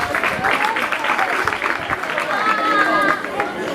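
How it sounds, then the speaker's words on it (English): A graduation audience at a secondary school claps in scattered bursts, the hand claps mixed with a steady murmur of crowd chatter and nearby voices. "Clap."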